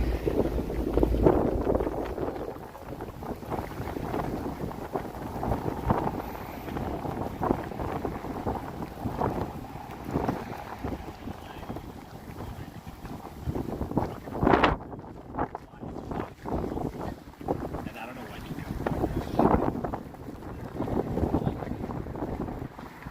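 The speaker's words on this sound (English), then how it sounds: "Oh, here comes the wind." Cold wind gusts across a downtown Toronto street, roaring and buffeting the microphone in uneven surges that drown much of the background, with people talking over it now and then.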